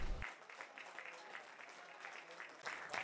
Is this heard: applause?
yes